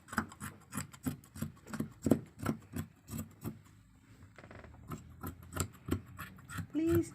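Scissors snip through dress fabric for the skirt of a short pencil dress in a steady series of crisp, rhythmic cuts, close and clear, pausing briefly midway before resuming.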